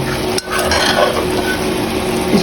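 Fried taro stalks get stirred into masala in a pan for a Nepali curry: close, loud scraping and clinking of a spoon against metal over a soft continuous sizzle, with no one speaking.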